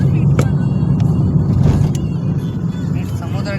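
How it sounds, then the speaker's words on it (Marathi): An auto rickshaw arrives with a loud, close engine rumble and hum on a roadside near the sea, steady over a few seconds with no voices. "रिक्षा आला"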